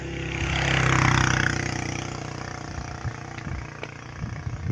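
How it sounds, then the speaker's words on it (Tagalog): A motorcycle climbing a steep road at a Padre Pio mountain shrine in San Jose del Monte, Bulacan, its engine droning loudly then fading as it passes, with scattered low knocks and bumps afterward. "Ayan, may motor siyang dumada."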